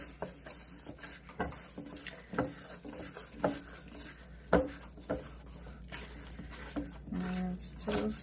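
Bread dough of about 3.5 cups of flour being mixed in a bowl, giving soft irregular scraping and patting sounds with a few sharper knocks, steady and close, with no talking.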